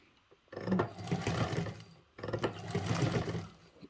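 Sewing machine stitching a basting line through layered fabric for a Travelnizer organizer, running in two steady bursts with a short pause between, close and fairly loud with no talk.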